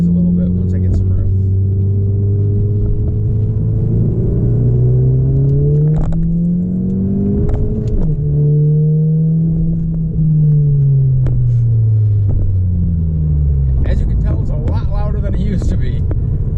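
A 10th-generation Honda Civic Si fitted with a MAPerformance downpipe and an HKS catback exhaust drones loudly, with the pitch rising and falling through several revs and shifts. A voice talks over it.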